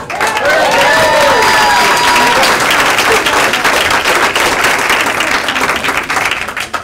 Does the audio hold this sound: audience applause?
yes